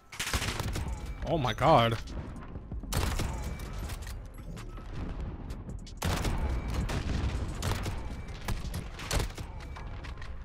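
Sharp sniper rifle shots crack out in Call of Duty: Modern Warfare, several spaced reports layered over game noise, with a player exclaiming in excitement between them.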